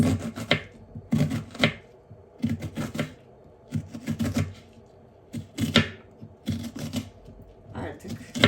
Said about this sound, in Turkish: Soğanımızı yemeklik doğruyoruz.